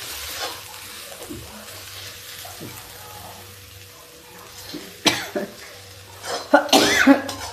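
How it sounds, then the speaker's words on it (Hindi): Low kitchen clatter while spices roast, then a few sharp coughs caused by the spice fumes burst out near the end, close and fairly loud. "उसकी वजह से खांसी आ गई है"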